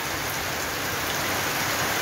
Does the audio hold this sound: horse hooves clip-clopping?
no